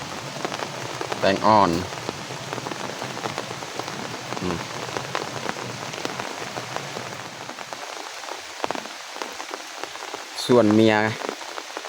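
Steady rain falls all day on a rural Thai homestead, a constant close hiss of drops on surfaces, with brief spoken words from a man breaking through twice.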